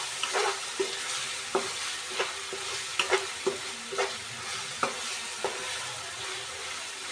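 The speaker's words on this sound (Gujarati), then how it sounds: "તો આપણે લીલા મરચાં એડ કરી દઈશું અને એને આપણે ઘડીક આમ અંદર સડવા દઈશું" Tomatoes and green chillies for egg bhurji sauté in a pan with a soft, constant sizzle, broken by regular spoon scrapes and taps about every half second, close and unhurried.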